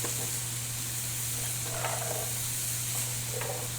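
Onions and carrots sizzle steadily in a hot pan under a constant hiss, with a few scraping stirs breaking through near the middle and end.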